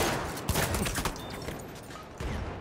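Shotgun blasts in the World War I shooter Battlefield 1, a few sharp distant reports among scattered battlefield gunfire, faint and without talk.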